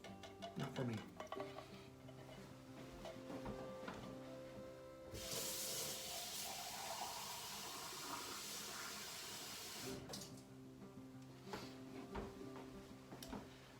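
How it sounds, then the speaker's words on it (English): Tap water runs into an empty tomato sauce can for several seconds, a broad rushing splash in the middle of the clip, with quieter kitchen handling sounds before and after. "So I usually just rinse that can out."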